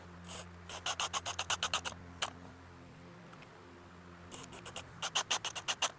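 Screws are driven into a replacement handle on a Cold Steel Spetsnaz shovel. Two quick bursts of rhythmic, ratcheting scratchy clicks sit close and fairly quiet, separated by a short pause.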